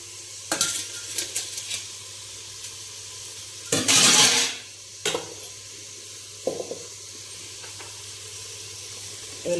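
Curry leaves sautéing in a pan for chicken curry, with stirring scrapes and short bursts of sizzling, one loud hissing burst in the middle, close and without talk.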